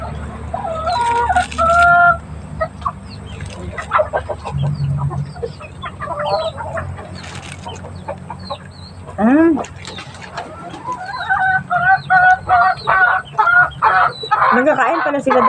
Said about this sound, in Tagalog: Kainis na itong mga manok ko ay.